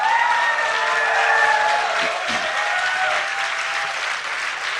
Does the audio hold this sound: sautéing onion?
no